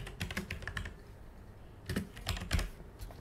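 Keys clatter on a computer keyboard as a name is typed during an IGCSE ICT data manipulation exercise, arriving in two quick, close bursts of tapping separated by a short pause.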